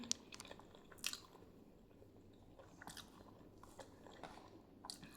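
Someone eating a meal of mustard-stem, potato and eggplant curry with fish curry: faint, close chewing and biting with a few soft crunchy clicks, without talk.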